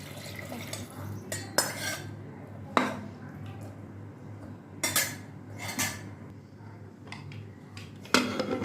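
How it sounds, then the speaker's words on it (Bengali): Metal pan scraping and clanking with occasional splashes of water as a kadai is washed, sharp knocks repeating at irregular intervals over a low steady hum, close by. "এবার আমি কড়াইটা ধুয়ে একটুখানি জল দিয়ে দেবো"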